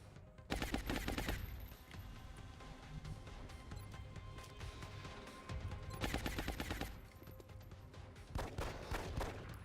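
Suppressing gunfire in the XCOM Long War strategy game comes as three loud bursts of rapid automatic shots, with quieter stretches of rumble between them.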